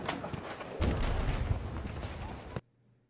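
Heavy gunfire and booming blasts from the Battlefield 2025 video game, a dense, loud burst of shots and explosions for over two seconds that cuts off abruptly to near silence.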